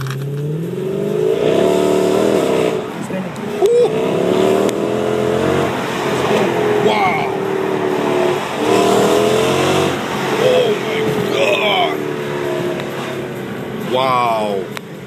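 A Mercedes-AMG car engine revving and accelerating through the gears, with rising pitch sweeps and brief lifts between pulls, heard from close by as someone talks excitedly over it.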